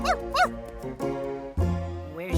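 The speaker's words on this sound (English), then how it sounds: "He likes to bark." Cartoon dog barking and whimpering in an animated adventure on a big river, a few bright, whiny yips and howl-like calls that ride over a steady background of music and tones.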